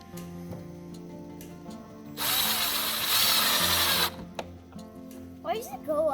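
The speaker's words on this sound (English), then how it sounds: "It goes through the rubber of the tire, and then it has to drill through, darn it, then it has to drill through the plastic wheel." A power drill bores through tire rubber and into a plastic wheel on a kid's Gator ride-on toy, a loud steady whir lasting about two seconds between quieter moments, with people talking nearby.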